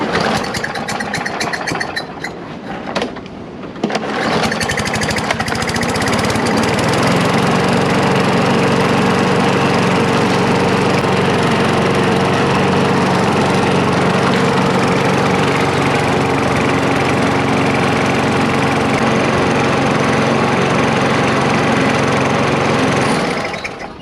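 A Briggs & Stratton lawn mower engine, recently repaired after a seized piston and broken valve, sputters briefly, then settles into a loud, steady roar that runs continuously and close by, with no talking.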